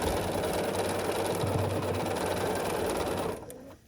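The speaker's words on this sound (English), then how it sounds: "So we're putting this in and sewing along the seam here." Sewing machine stitching along a quilt block seam, a steady rapid mechanical whir running without pause for several seconds before stopping abruptly, close and alone.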